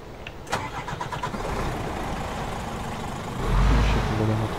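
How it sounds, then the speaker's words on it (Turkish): A Scania 124G truck engine starting in Euro Truck Simulator 2: a short cranking burst, then a steady mid-pitched idle that swells into a deep, louder rumble near the end. "İsterseniz bir aracımızı çalıştıralım."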